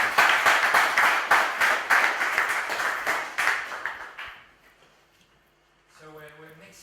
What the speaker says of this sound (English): Why not another round of applause?